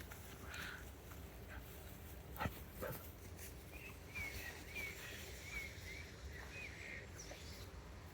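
A dog outdoors near a dead deer lets out a series of thin, high whining whimpers, fairly faint against steady background noise, with a single sharp knock partway through.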